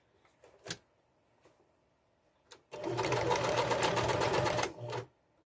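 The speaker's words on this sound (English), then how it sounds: "So I'll fold it back to the line, fold it over, and stitch." A sewing machine runs in one steady burst of about two seconds, stitching a folded curtain hem, with a few light handling clicks and taps before it starts.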